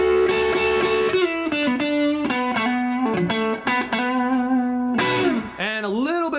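An electric guitar runs straight into a mid-80s Mesa Boogie Mark II amp with a touch of amp distortion and a little reverb, playing a mostly clean blues lick of picked notes, bends and slides at steady loudness.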